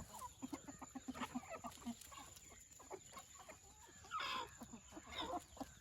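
Native country chickens clucking as they graze on bean plants, a steady run of short, close clucks and chatter with a brief louder squawk near the end.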